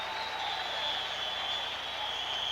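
A football crowd of more than 40,000 at a 1985 USFL game in Jacksonville cheers and applauds in a standing ovation, a steady, distant roar of clapping and voices that holds evenly throughout.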